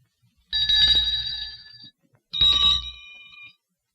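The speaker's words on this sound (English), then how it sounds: "The 1 o'clock chime or something. 3 o'clock chime." Clock chime from an early 1950s live puppet television show, two separate bright ringing tones, each sustained for over a second with a short silent gap between them.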